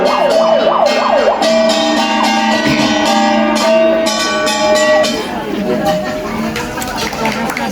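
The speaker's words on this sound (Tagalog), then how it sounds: "May ambulansya pa." An ambulance siren wails with a rising and falling tone through busy street noise in Baguio, Philippines, near the Dragon Castle, blending with crowd chatter and traffic as people talk nearby.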